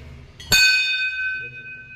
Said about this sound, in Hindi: घंटी बजाने का।